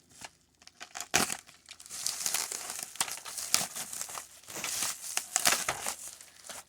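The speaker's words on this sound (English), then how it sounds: "So this might be 2 or 3 pieces of bubble wrap" Several taped-together pieces of bubble wrap are unwrapped from a 25th Anniversary Ultimate Battle Pack Mobat toy, producing continuous close crinkling and crackling with sharp rustling peaks throughout.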